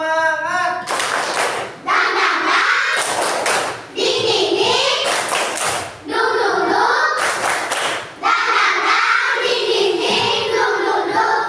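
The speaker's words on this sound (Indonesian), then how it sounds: "sekarang untuk lebih semangat kita akan melakukan tepuk semangat" Schoolchildren perform a rhythmic 'tepuk semangat' spirit clap in a classroom, with loud bursts of group clapping in a patterned beat alternating with children's chanting voices.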